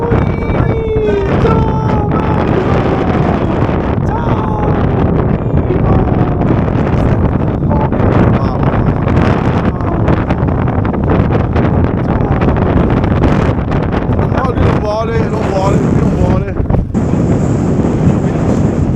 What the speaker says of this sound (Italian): Di queste strade di merda c'è un vento indecente poi.